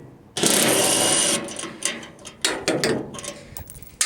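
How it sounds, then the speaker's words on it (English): Ratchet wrench backing out two bolts on a steel or aluminum car hauler trailer, a close burst of loud mechanical whirring followed by a series of short clicking ratchet strokes. "So you take the two bolts out"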